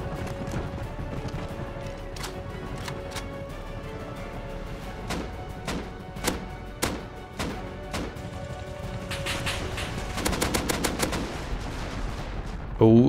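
Gunfire in the video game Rust rings out as scattered single sharp shots, followed by a rapid burst of automatic fire near the end over a steady low background hum.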